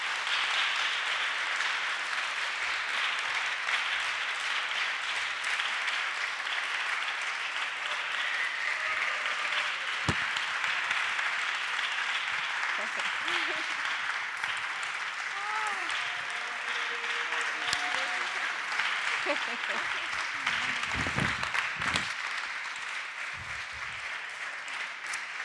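A conference audience gives sustained applause, a steady hiss of many hands clapping that runs for the whole stretch at moderate volume, with brief voices and whoops breaking through near the end before it thins out.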